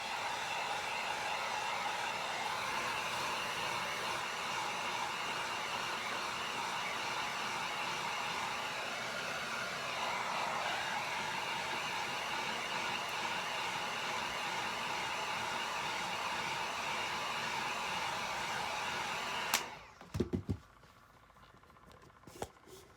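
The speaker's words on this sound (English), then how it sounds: "I'm just going to hit this with a heat gun about 5 to 6 inches away on high." Heat gun on its high setting, a steady close roaring blow of air held for about twenty seconds before cutting off, leaving quiet room noise with a few faint bumps.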